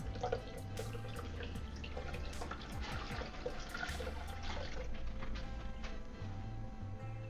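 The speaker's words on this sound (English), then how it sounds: "And then add the last 2 cups of water." Water being poured into a blender holding partly ground rice and cinnamon, a continuous splashing stream with drips, fairly soft and steady throughout, no talking.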